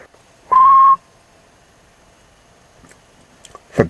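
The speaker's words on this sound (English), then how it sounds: "The guard blew his whistle and waved his green flag." A railway guard blows his whistle to send off a train: one short, bright, steady blast, then quiet with a few faint clicks and taps.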